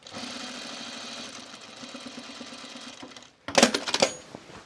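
A sewing machine re-sews a seam on a top in one steady whirring run of about three seconds, stopping abruptly before a few sharp clicks and rattles of handling close up.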